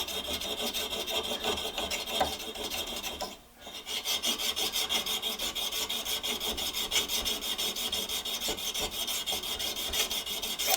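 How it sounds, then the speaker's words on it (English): An abrasive rasps rhythmically across the leading edge of an antique spokeshave, a dense run of quick scraping strokes with one short pause, close and fairly loud, no voices. "use it to polish the leading edge of this tool so that it has a flatter spot for that spoke shave blade to rest against"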